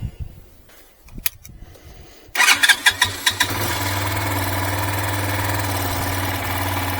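A 2022 Peacesports Brozz Recon 250 dual-sport motorcycle engine cranks with a few clicks, catches with several sharp revving pops, then settles into a steady, loud idle close by.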